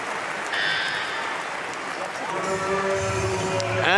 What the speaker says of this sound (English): Warm applause from the crowd, they like it.